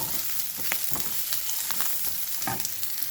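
Onion and ginger frying together in a pan for soybean sukka, a dense continuous sizzle with frequent quick stirring clicks close by.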